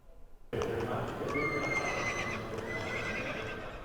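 A horse neighs loudly after a short faint lead-in, with hooves clip-clopping steadily under the call and continuing afterward, in the Ocala horse-breeding area of Florida.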